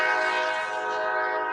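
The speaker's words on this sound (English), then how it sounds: "If you want to see the train," A passing train sounds its horn in one loud, sustained, steady blare that fades slightly toward the end, with no talking over it.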